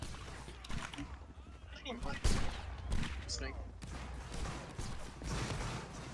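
Musket volleys crackle in a Napoleonic Wars battle game, several sharp reports and ragged bursts at varying distance, with one loud close shot, mixed with battlefield clatter and a voice talking over it.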